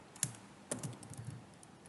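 Code is typed on a computer keyboard in a few quiet, close keystrokes: two sharper clicks followed by a scatter of softer taps, with no talk.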